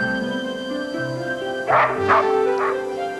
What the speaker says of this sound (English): Her dog, Towser, was her best friend